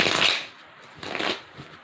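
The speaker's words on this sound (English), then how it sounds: "That's 3 shuffles." A tarot card deck being shuffled, two brief riffling bursts of cards close by with a short pause between them, no talking.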